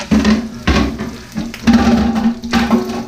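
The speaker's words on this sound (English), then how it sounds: "You want that sizzling, you want that cracking, you want that high heat" Loud sizzling and crackling from onions in a hot pan over high heat, coming in bursts with occasional clatter, close up.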